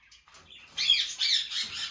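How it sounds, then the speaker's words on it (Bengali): Lutino lovebirds in an aviary squawk and chirp in loud, overlapping bursts, with faint high calls at first and then a dense run of harsh squawks. "এদিকে রয়েছে খামারের লুটিনো"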